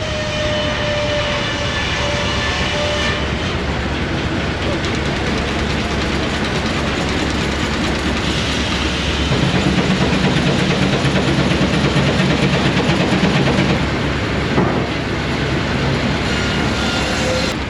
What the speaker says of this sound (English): Then here's the steamer running the planer.